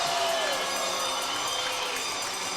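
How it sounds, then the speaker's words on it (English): A loud, dense crowd cheers and roars inside an arena during a junior hockey playoff game between the North Bay Battalion and the Barrie Colts, sustained and steady throughout. "we're hearing a lot of cheering in the building"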